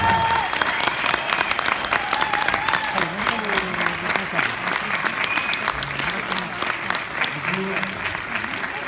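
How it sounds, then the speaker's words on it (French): Audience applause at a film premiere, a sustained crisp patter of clapping from a modest crowd, steady throughout, with a few voices and faint whoops mixed in. "Sous l'applaudissement."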